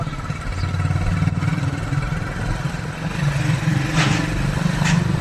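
A tractor engine runs at a steady low idle near a village Hanuman temple, a continuous close rumble with no break.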